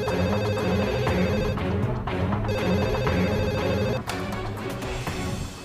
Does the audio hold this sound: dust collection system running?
no